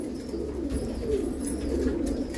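Pakistani White Bar pigeons coo inside a breeding coop, soft low throaty calls that keep going over a quiet indoor background.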